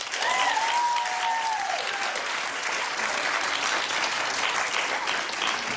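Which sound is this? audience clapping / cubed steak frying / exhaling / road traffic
audience clapping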